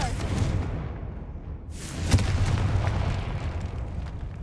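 A Confringo spell detonates in the Hogwarts Legacy video game, a sharp fiery blast with a rushing burst and rumbling tail, preceded by muffled booming and scuffling action sounds.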